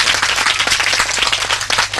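An audience claps together in a sustained burst of dense, loud applause that carries on steadily, with no one speaking over it.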